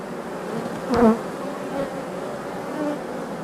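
A steady, low insect buzz of a honeybee colony with no signs of viral disease hums throughout, with one brief louder swell as a bee passes close by.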